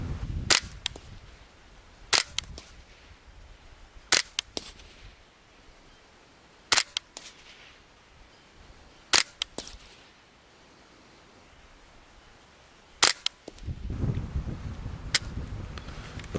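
Ruger 10/22 Target rifle fired at golf balls and spinners about 80 yards away: sharp single cracks spaced a few seconds apart, each with a short ringing tail, over quiet outdoor background, with a low rumble near the end.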